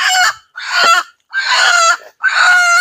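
A native Bangladeshi hen calls loudly and close in four drawn-out, squawking bursts separated by short pauses, with no talk over them.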